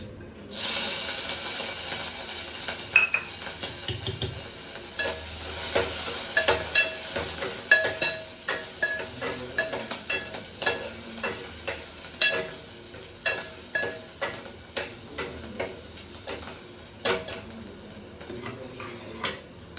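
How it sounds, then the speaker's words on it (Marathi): Chopped garlic and green chillies frying in oil in a pan, a steady close sizzle broken by scrapes and clinks of stirring against the pan. "आता लसूण आणि हिरवी मिरची छान तळली गेलेली आहे"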